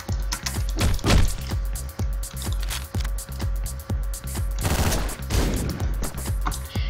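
Enemies open fire in Hotline Miami with bursts of rapid gunshots and sharp thwacking hits, loud over a pounding, steady music beat.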